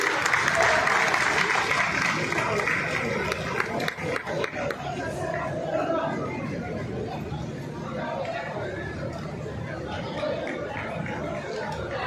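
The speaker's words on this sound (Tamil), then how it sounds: "மக்கள் அனைவரும் ஒரு அழகான ஒரு கைத்தட்டல்களோடு வரவேற்கணும்" Applause from a crowd at the opening of a fish festival at Island Grounds, a steady spread of clapping mixed with chatter and voices that fades a little over time.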